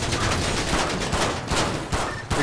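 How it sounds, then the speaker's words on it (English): Rapid gunfire in a GTA role-play police scenario, a sustained burst of loud shots fired from a black Cavalcade SUV, dense and continuous without pauses. "The black cavalcade just shot at me."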